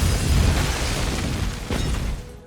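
A bomb blast at the UDG building roars out as a dense, sustained low rumble with broadband debris noise, holding steady for about two seconds before a second surge and a slow fade, with no voices.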